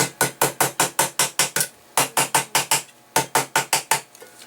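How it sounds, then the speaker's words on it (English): Rapid bursts of a hammer striking a metal lid for a GSI cup, about twenty sharp clangs in quick rhythmic runs with short pauses between groups. "lightly pound at it, and then kind of curve the hammer down"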